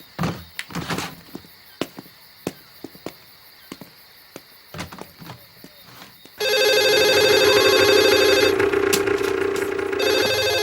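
A telephone during an outgoing local call in a Tamil film scene: a run of sharp clicks and taps, then a loud, steady, tonal ringing that starts abruptly and holds to the end, with no talk.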